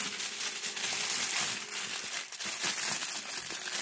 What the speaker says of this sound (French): Vous allez bien emballer l'argent.